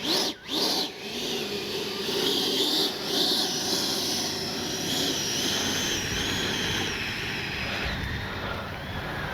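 An FMS Avanti S 90mm electric ducted-fan RC jet runs at the field, a steady high whine and rushing hiss held throughout, fairly loud and close, with wind noise and no talk.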